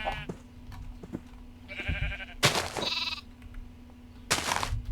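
A lamb in Minecraft bleats several times, short wavering cries spaced across a few seconds, fairly close and clear over a low steady hum, with no talk over it.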